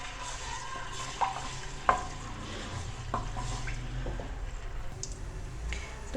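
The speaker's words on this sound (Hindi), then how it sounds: "तो यहाँ पे मैंने लिया है 1 चम्मच लहसुन का पेस्ट। इसको इसके अंदर डालेंगे और इसका कलर थोड़ा सा चेंज करेंगे।" Garlic paste fries in oil while it is stirred, giving a soft, steady sizzle with a few scraping knocks of a spoon against the pan.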